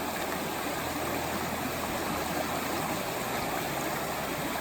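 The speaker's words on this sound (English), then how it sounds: "We're here at stream crossing number 3 for today on beautiful Caney Creek." Caney Creek rushes over a hiking trail crossing in Arkansas in a loud, continuous watery roar, broad and steady without pauses or voices.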